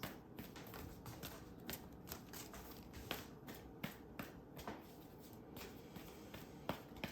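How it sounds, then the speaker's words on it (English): Continuous papery riffling with sharp snapping flicks scattered through, a deck of cards being shuffled close by, steady and fairly quiet. "Tune into these cards while I shuffle."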